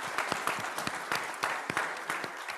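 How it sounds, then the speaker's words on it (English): Applause from a Kiwanis club audience at a Raleigh meeting, a moderate wash of many hands with a few sharper claps, steady for a couple of seconds at middling distance. "that's a big round of applause."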